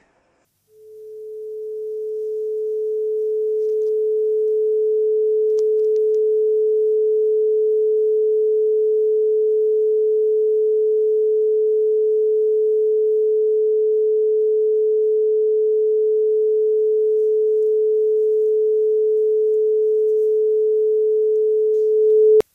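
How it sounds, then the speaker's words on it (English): A persistent low hum in Ireland, a single pure, unwavering tone that fades in and holds at constant loudness for over twenty seconds, alone with no other sounds. "Can you hear the hum now?"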